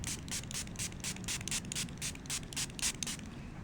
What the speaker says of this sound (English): Now I'm going to come in and spray it some more.